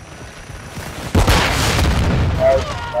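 Gunfire bursts in Call of Duty: Modern Warfare II DMZ, a loud burst erupting after a quieter opening and rolling on steadily to the end, with voices talking underneath.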